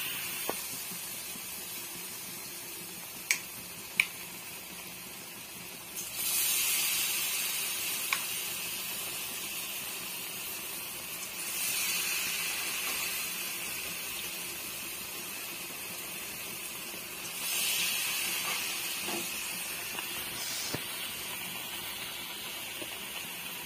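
Aloo bajji potato fritters frying in hot oil, a steady soft sizzle that swells into louder hissing surges three times, with a few small clicks and pops, no talk.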